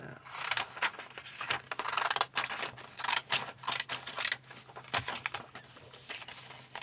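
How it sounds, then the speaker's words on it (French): Pinking shears snip through paper for an art journal collage, heard as a close, irregular series of crisp cutting crunches and paper rustles with short pauses between the snips. "Je vais couper au cranteur."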